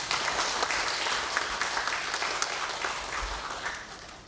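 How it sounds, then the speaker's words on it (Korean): Sustained, dense audience applause fills an academic conference hall at a 120th-anniversary commemoration of the Donghak Peasant Revolution, steady and fairly loud throughout with no talking. "큰 박수 부탁드리겠습니다."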